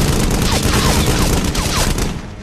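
Dense battle gunfire from a movie firefight, with loud rapid overlapping shots and bursts filling the whole stretch, close and continuous, tapering slightly at the end.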